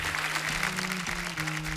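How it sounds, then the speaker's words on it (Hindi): Studio audience at a comedy show breaks into steady, dense clapping for guests, a close, continuous wash of applause with a sustained musical tone beneath it. "आज हमारे मेहमानों के नाम एक बार जोरदार तालियां हो जाएं"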